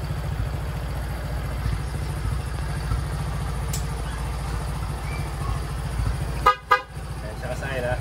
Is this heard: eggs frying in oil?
no